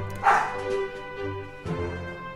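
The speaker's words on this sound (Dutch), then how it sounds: "Ik hoorde een harde blaf." Loud dog bark in the Pokémon Silver video game: a sharp single bark near the start, then a softer second bark-like cry about a second later, with a quiet tonal game melody running beneath.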